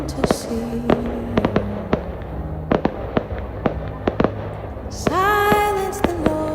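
Fireworks bursting in the sky, a series of sharp pops and bangs spaced about every half second, then a louder crackling burst with whistling near the end, with faint voices underneath.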